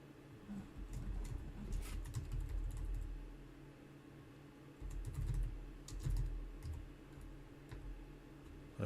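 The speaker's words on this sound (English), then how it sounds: "I type it wrong up here." Fingers typing code on a computer keyboard at a desk, bursts of quick close clicking keystrokes separated by short pauses, no speech.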